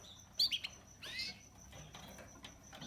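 A young Australian Border Fancy canary gives a few sharp, bright chirps, with the loudest burst near the start followed by a softer trill. The calls are close and clear over quiet background hiss, with no talking.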